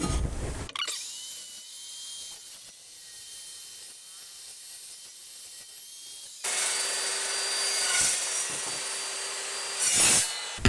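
Scrap steel for a utility trailer's spare tire mount is cut at a 45-degree angle. A loud, harsh, hissing cut starts partway through and runs for several seconds, after quieter workshop handling and rubbing, and ends with one more brief burst.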